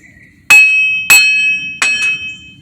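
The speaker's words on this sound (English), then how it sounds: "Get your hammer." A hammer striking the front wheel hub assembly of a 2004 Dodge Durango 5.7, three loud metallic blows with ringing bell-like decay, the last followed by a quick extra tap.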